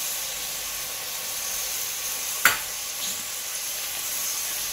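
Tomatoes and yogurt cooking in a pan for egg biryani give a steady, moderate hiss and sizzle, with one sharp brief clink or scrape midway.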